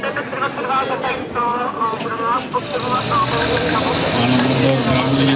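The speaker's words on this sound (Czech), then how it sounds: "Jestli se povede to protočení motoru." A fire brigade pump engine is cranked over and catches partway through, then settles into a loud, steady running roar close by, with a brief dip before it fires.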